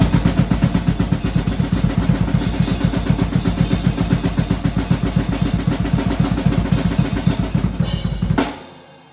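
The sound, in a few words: black metal blast beat played fast on drums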